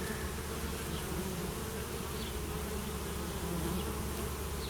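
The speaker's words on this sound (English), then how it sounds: "There's a whole book written on just what you can learn from the entrance of a hive." Honey bees crowd a hive entrance in a dense, continuous buzzing drone that stays close and steady throughout, with no voices.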